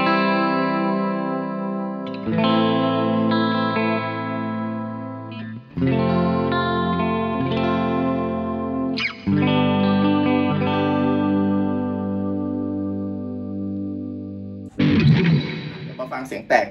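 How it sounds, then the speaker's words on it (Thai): Electric guitar chords from an Epiphone through a distortion effect, ringing in long sustained phrases with a few pauses, ending in a brief burst of noisier strumming. "ฟังเสียงแตกกันนะครับ"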